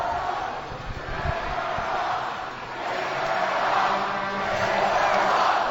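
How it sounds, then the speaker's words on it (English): Arena crowd at a minor-league hockey championship game, fans of the Augusta Riverhawks chanting in unison, a broad steady roar of many voices that swells and sustains over several seconds. "Let's go Hawks, resonating from the crowd once again"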